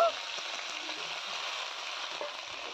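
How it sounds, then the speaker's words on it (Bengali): Oil heats in a wok before cauliflower goes in, giving a steady, even hiss that stays close and fairly quiet throughout, with no talk. "কড়াইয়ের মধ্যে তেল দিয়ে দিল"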